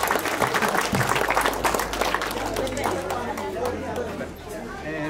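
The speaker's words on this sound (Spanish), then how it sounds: "¡Los aplausos!" Applause from a family gathering at a Santiago festival in a home, a steady wash of clapping with chatter and voices mixed in, fairly close and continuous, easing slightly toward the end.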